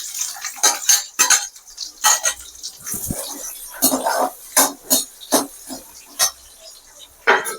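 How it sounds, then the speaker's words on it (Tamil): Onions go into a pan that already holds sautéed garlic and are stirred. Sharp, irregular clinks and clatters of a spoon against the pan come close and loud, separated by brief quiet gaps. "அடுத்தது வெங்காயத்தை போட்டுக்கலாம்"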